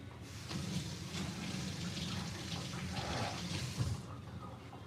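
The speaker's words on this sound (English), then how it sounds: "Let me rinse these off," Items are rinsed under a running tap, a steady close stream of water that shuts off near the end.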